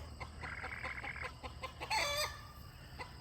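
Silkie chickens squawk and cluck in an agitated flurry as roosters fight, with a sharp rooster cry rising in the middle, close by amid a busy farmyard.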